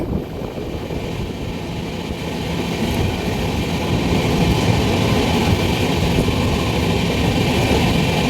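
A twenty-coach passenger train runs along in a steady, loud rumble that builds slightly over time, heard from on board with faint clatter and no voices.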